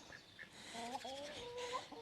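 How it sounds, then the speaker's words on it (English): Backyard chickens at a house in the German countryside give soft, faint clucks and short warbling calls. A handful of calls are spread across a quiet outdoor background. "Some more chickens."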